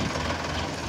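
A tractor hauling shuttering material rolls out of a tunnel on a construction site, its engine giving a brief, steady low rumble with no talk over it.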